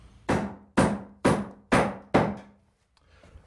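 Five solid hammer strikes knocking timber blocks into wall framing, loud and close with a dull woody thud, evenly spaced about half a second apart, then a brief quiet tail with no talk.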